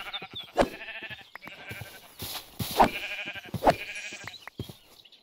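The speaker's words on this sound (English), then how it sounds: "I see some sheep." Sheep in the Minecraft video game give several short bleats, three of them clear and distinct. They come at irregular intervals over quiet in-game ambience.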